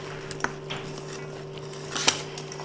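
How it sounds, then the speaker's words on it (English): Spoon or utensil knocking against a big bowl while coleslaw and black beans are mixed together, with a few sparse, soft clinks and scrapes over a quiet steady hum. "now let's go ahead and just mix this up really well"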